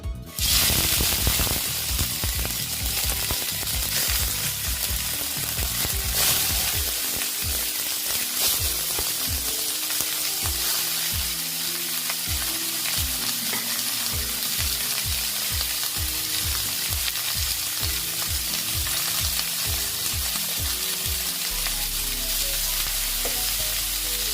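Boal fish pieces go into a hot frying pan and sizzle, a loud continuous spitting and crackling fry that starts sharply and carries on steadily, with no talking.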